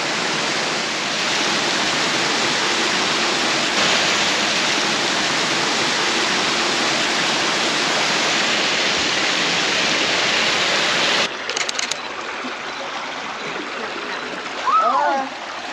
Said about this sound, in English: Yeah, I can get that waterfall